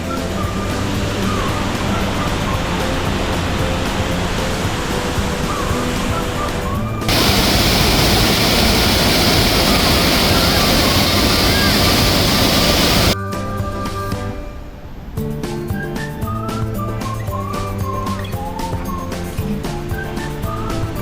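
Borhill waterfall in Meghalaya, with spray drenching everything, gives a steady, dense rushing roar that fills the whole stretch and shifts abruptly in tone and loudness at a couple of points. No one speaks.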